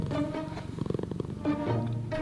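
A kitten purrs in a soft, rhythmic rumble close by, the fluttering pulses rising and easing over a couple of seconds.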